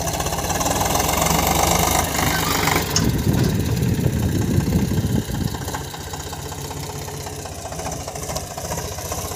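An Eicher 485 tractor working in a field has its engine running steadily close by, a continuous diesel chug that swells briefly and then settles into a lower, even idle.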